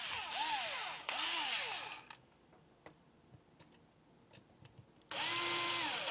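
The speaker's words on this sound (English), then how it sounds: "And then the little Phillips goes back in." A power drill or driver runs in loud bursts with rising and falling whine while a Phillips screw is driven back into a Saeco brew group. Two short runs come first, then faint clicks and taps, then a final longer run.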